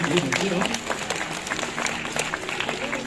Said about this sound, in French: on peut applaudir tout à fait